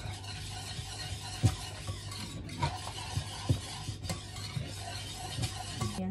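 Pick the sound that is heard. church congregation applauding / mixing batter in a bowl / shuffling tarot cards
mixing batter in a bowl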